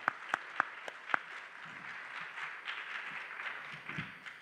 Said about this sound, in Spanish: Pues también un gran aplauso, por favor, aquí a Ricardo Haye.